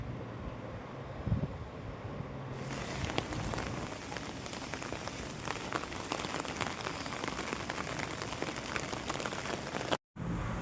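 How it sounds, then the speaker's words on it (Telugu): Heavy rain pours down outdoors, a dense and steady hiss of drops striking surfaces. It stays loud and unbroken with no voices and cuts out briefly near the end. "ఫుల్ వర్షం పడుతూనే ఉంది"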